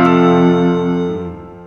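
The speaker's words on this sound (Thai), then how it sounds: "ถ้าเกิดเราเลือกเสียงเปียโนกับเสียงเบลเมื่อกี้ไว้อันนี้คือเสียง2เสียงผสมกัน" A single sustained tone from a 61-key Pastel Siam Key electronic keyboard layering piano and bell voices, loud and close, slowly fading out.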